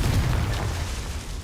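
A Confringo fire spell explodes in Hogwarts Legacy, one short booming burst that fades over about a second.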